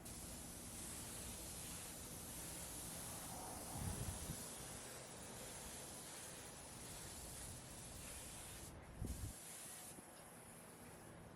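A spray gun lays a light tack coat of clear onto a restored headlight, giving a soft, steady airy hiss with a couple of brief stronger bursts, faint and close with no talking.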